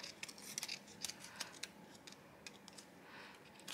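Scissors snip through scrapbook paper pieces in a series of short, crisp cuts, quiet and close, coming in irregular bursts with no talking.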